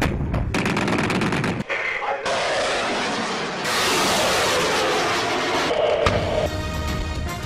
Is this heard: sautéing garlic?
no